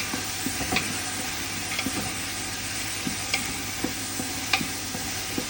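Onions frying in a pan for Kerala-style camel curry give a steady sizzle, while the stirring spoon taps and scrapes the pan in a regular, evenly spaced rhythm, close by and with no talking.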